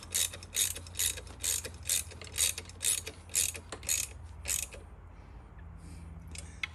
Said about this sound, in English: now I'll attach the front side of the kickstand to that extension nut.